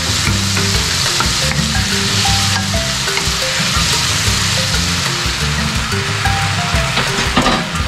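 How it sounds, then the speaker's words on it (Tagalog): Tomato frying in a hot pan while being stirred, a steady loud sizzle running throughout with scraping strokes of the utensil, close and continuous with no talking. "At imekos-mekos lang ulit, guys."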